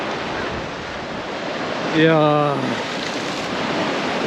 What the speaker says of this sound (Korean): 아, 파도 많이 칩니다.